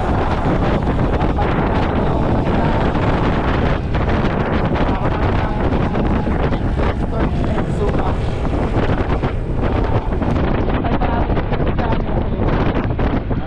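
Strong typhoon wind roars steadily and loudly, buffeting the microphone throughout with a dense, unbroken rush of noise.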